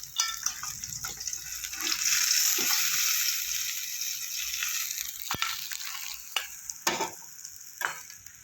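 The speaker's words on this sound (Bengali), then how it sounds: "আমার মাছগুলো লাল লাল করে ভাজা হয়ে গেছে," Rohu fish pieces fry in hot oil, a steady close sizzle with scattered crackles and occasional stirring or scraping clicks from the pan.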